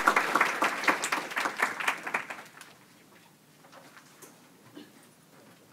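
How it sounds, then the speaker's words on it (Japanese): Conference audience at a Python developer gathering applauds a speaker with a burst of moderately loud clapping that fades after about three seconds, leaving scattered faint claps and room noise. "スピーカーに拍手をお願いいたします"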